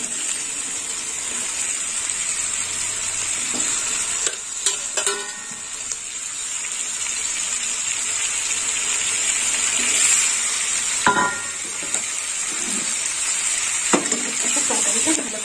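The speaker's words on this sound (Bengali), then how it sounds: "এবার দিয়ে দেবো ভেজে রাখা চিচিঙ্গা আর আলু।" Ridge gourd (chichinga) and potato, fried earlier, stir-fried with onion in a pan for a Bengali curry, giving a steady close sizzle with occasional scraping stirs, without talk.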